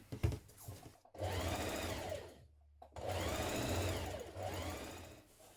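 A sewing machine stitches a seam with a 1.5 centimetre seam allowance on pyjama bottoms, running in two steady bursts of even, rapid whirring separated by a brief pause, close and loud.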